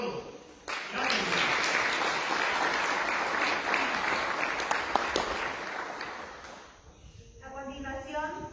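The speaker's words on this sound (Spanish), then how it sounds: "un aplauso para todos" An audience at a school end-of-year closing ceremony breaks into sustained, dense applause for several seconds, then fades as a voice resumes speaking.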